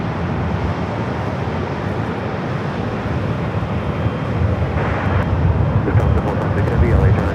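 A heavy airliner arriving at Los Angeles airport: a broad, steady jet roar that swells louder toward the end as the aircraft nears, under faint background voices.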